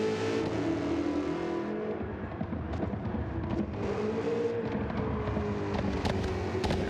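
A race car engine in Gran Turismo 7 holds a steady high drone under load through a flat-out section of a Pikes Peak track, with tire and road noise throughout.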